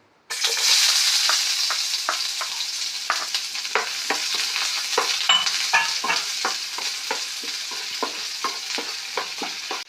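Onion hitting hot coconut oil in a pan for white sauce macaroni pasta: a sudden loud sizzle bursts in, then a steady close frying hiss with repeated stirring scrapes and clicks, no talk.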